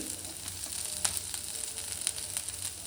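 Oil sizzles steadily in a pan while food fries for a Shivamogga-style sambar, a continuous close crackle with a few faint sharp pops.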